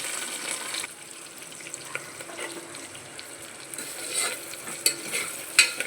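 Onions, green chillies and curry leaves fry in a pan with a steady close sizzle, stirred now and then, ending in a few sharp clinks of a utensil.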